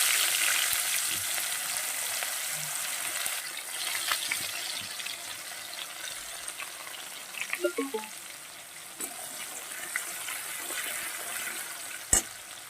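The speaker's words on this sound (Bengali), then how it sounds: "গোটা জিরে আর দিয়ে দেব একটা একটা করে গোটা গরম মশলা আর দিয়ে দেব কেটে রাখা একটু পেঁয়াজ" Onion frying with cumin seeds and whole garam masala in hot oil gives a steady soft sizzle, with light stirring clicks and a sharp utensil knock near the end; no voices.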